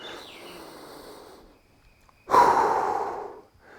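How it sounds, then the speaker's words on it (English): Deep breathing during a cool-down after exercise: a quiet breath first, then one loud, close exhale through the mouth lasting about a second before it fades out. "Focus on breathing in through the nose."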